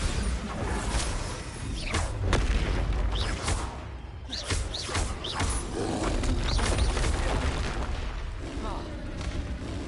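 The Bombarda spell goes off in Hogwarts Legacy as booming blasts and whooshes that recur through a busy stretch of combat, with a voice speaking over the noise.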